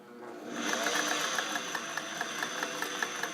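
A restored all-metal Singer 404 slant-shank sewing machine with a rotary hook sews a long-length stitch, running at a steady hum with an even, rapid ticking of the needle, close and continuous.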